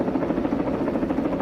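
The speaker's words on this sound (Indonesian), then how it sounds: "terlihat sebuah helikopter datang ke sana, yang langsung menghujani tempat tersebut dengan peluru." Helicopter from a film arriving over a place it then fires on, a steady broadband rotor and engine rumble with a fluttering pulse, held at an even loudness throughout with no talk.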